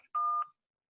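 A single short telephone keypad tone, pressed to answer an automated COVID vaccine scheduling phone menu, sounds clean and alone, followed by silence.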